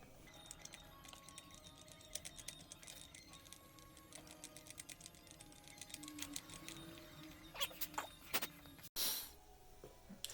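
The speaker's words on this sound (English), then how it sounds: "You want to run the tap all the way down." A Time-Sert tap is run down a threaded hole in a Onewheel XR, giving a quiet, steady stream of small mechanical clicks and ticks with a couple of louder knocks near the end.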